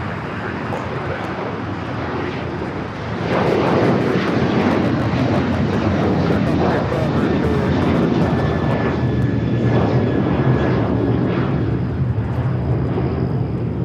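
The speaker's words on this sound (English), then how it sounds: "KLM, the Dreamliner, second flight of the day, flight 603, about to arrive on the north side" A KLM Boeing 787 Dreamliner arriving from Amsterdam on the north side at LAX swells into a loud, sustained jet roar after a quieter start, with a voice talking over it.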